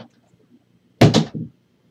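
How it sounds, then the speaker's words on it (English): A room door is pushed shut indoors, a close, solid thud followed by a second, lighter knock as the latch settles, with quiet around it. "Hang on, I'm going to close my door."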